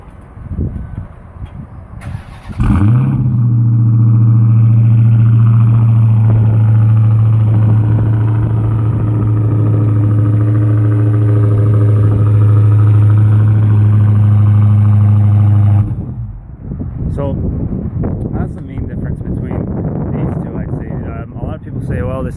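Dodge Charger Hellcat V8 idling close by, a steady deep low rumble holding for about thirteen seconds before cutting off, with wind and voices around it before and after.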